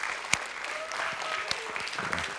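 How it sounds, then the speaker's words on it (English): An audience at a young scientists' presentation event applauds with steady, continuous clapping, a few individual claps popping out sharply near the microphone. "One more applause."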